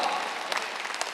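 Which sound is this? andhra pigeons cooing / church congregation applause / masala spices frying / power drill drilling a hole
church congregation applause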